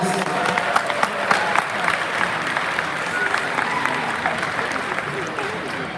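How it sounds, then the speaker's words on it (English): Graduation ceremony audience applause, a dense continuous wash of many people clapping, fairly loud and sustained, with a faint murmur of the crowd beneath it. "Let's have another round of applause for two more arts"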